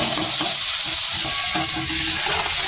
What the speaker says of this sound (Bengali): এই দেখুন, আমি নারকোলগুলো দিয়ে দিচ্ছি।